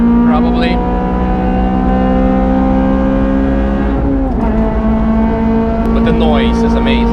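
A Honda Civic FD2 Type R races around the Nürburgring, its high-revving engine screaming loudly and close throughout, with a brief dip and sharp pitch change midway as it shifts and climbs again.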